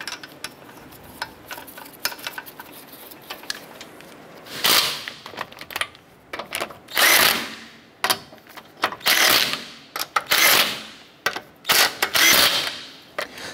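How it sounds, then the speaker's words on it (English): Lug nuts being run down and snugged on a wheel of a 2008-2012 Honda Accord, heard as a series of loud, sharp mechanical bursts and clicks in uneven clusters, alone with no talk. "I'm gonna go ahead and get our lug nuts all started by hand, and then we'll go ahead and snug those down."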